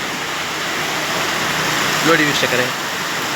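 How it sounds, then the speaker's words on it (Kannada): Heavy rain keeps up a steady hiss without wind, with someone speaking briefly over it near the end. "ಭಯಂಕರ ಮಳೆ ಬರ್ತಾ ಇದೆ ವೀಕ್ಷಕರೇ"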